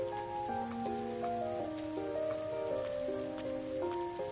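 Steady rain falls in a town scene of the video game The Legend of Heroes: Trails of Cold Steel, a soft continuous patter with drops under gentle sustained music, no talk.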